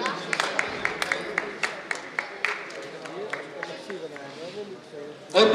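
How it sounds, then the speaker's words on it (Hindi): Audience clapping at an Indian yoga award and honour ceremony, a steady patter of scattered handclaps with some sharper individual claps, heard under someone speaking over a microphone. "तालियां देंगे जोर से"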